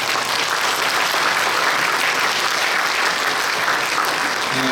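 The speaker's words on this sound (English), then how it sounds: "Please give them a big round of applause." Dense, sustained applause from a conference audience thanking a panel, loud and even for the whole stretch without a break or any voices.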